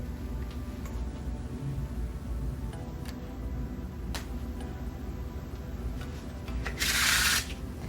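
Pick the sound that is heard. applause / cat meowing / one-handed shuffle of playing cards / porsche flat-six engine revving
one-handed shuffle of playing cards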